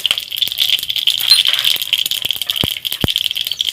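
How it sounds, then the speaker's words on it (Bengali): Dried red chilies and mustard seeds sizzling in hot mustard oil in a heated wok, a steady close crackling hiss with a few sharp pops, no talk. "এর মধ্যে আমি সরিষার তেল দিয়ে দিচ্ছি আর ফোড়নে দিচ্ছি দুটো শুকনো লঙ্কা আর সরিষা"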